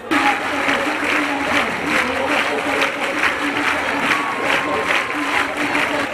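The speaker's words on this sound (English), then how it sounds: "Clapping for Jesus, the Phaneroo International Ministries congregation is breaking the record" Large church congregation at Phaneroo International Ministries clapping in a multipurpose hall during a record-setting applause attempt, with dense sustained clapping and rhythmic pulses running throughout, loud and close, with no talk over it.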